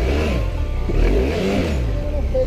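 A Royal Enfield Himalayan, stuck among rocks on a rough Andes mountain trail, revs in short surging bursts, its engine note rising and falling close by.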